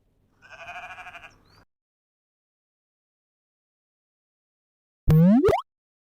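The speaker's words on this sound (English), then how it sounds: "Sheep." A sheep bleats once in a wavering, nasal call in a children's farm-animal lesson, followed by a long silence and then a short springy cartoon effect that sweeps upward.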